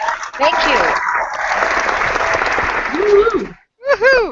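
Applause for a guest at an online book launch and birthday celebration, a steady wash of clapping through most of the clip with voices talking and cheering over it, then brief whoops near the end.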